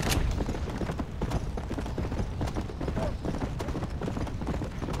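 Horse hooves clip-clop at a steady trot in Red Dead Redemption: Undead Nightmare, close and continuous with a rhythmic beat over faint background ambience.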